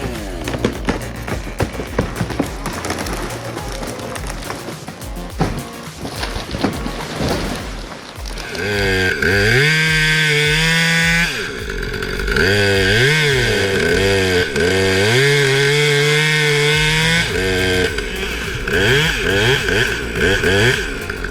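A Husqvarna T540XP chainsaw cuts tree limbs high in a tree with a loud, buzzing engine whine. The pitch rises and falls as the chain bites and revs, after a stretch of rough, noisy cutting at the start.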